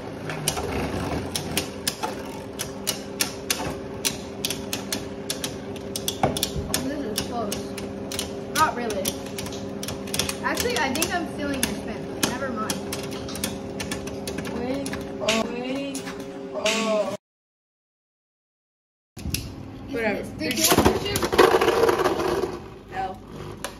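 Beyblade spinning tops launched and clashing in a battle arena, a rapid stream of close clicks and rattles with a steady whirring hum, then a short silence before more scraping impacts.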